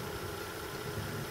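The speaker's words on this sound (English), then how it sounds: "All these motors are running at no load, except for their own weight that they have to carry." Electric motors, including a GE motor, a Warp 9 and a small starter generator, spin at no load with a faint, steady hum and low vibration, no voices present.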